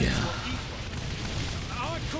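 Tank cannon booming in Saints Row: The Third, with heavy low rumbling blasts sustained across the moment while a player talks excitedly over the gunfire.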